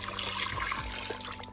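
Water poured into a pot of mutton with salt, chili powder and turmeric, a steady close trickle and splash for a short stretch with no talking.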